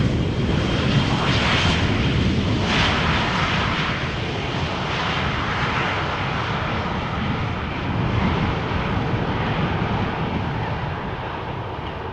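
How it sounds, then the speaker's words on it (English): An EasyJet Airbus A319 arriving from Belfast at Schiphol gives a steady, fairly loud jet roar that eases slightly as it goes, with no talk. "EasyJet A319 arriving from Belfast"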